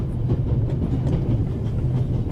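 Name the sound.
train running on rails in The Raven Remastered video game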